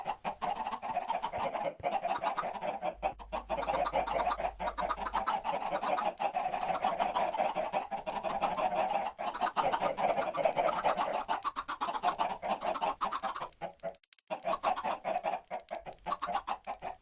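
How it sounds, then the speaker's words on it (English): Chickens cluck continuously in a busy flock, a dense, close chorus of overlapping clucks and calls that runs unbroken for the whole stretch, dipping briefly near the end. "Let's put in something that I hate, like chickens."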